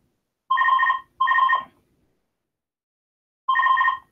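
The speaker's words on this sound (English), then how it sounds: "Answer the phone" A telephone rings in two quick back-to-back bursts, then a third after a short pause. Each burst is a clear, bright electronic trill, loud and alone against silence.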